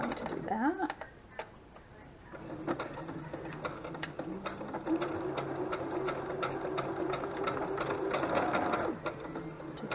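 A sewing machine runs steadily, stitching a straight seam down the side of a fabric horse tail bag, with a continuous whirring motor and rapid needle ticking, close by.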